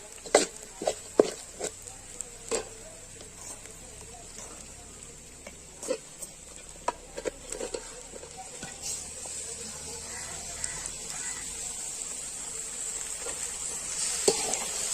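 Chicken pieces frying in a pan with sautéed onions for a salted chicken curry, steady sizzle with scattered sharp clicks of a spoon stirring early on, then a continuous hiss with no talking.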